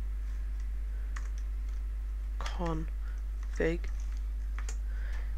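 Scattered computer keyboard keystrokes, a few sharp clicks spaced irregularly, heard beneath someone briefly speaking over a steady low hum.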